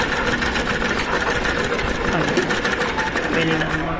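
A household sewing machine stitches fabric with a fast, continuous mechanical whir and needle chatter, close and steady throughout.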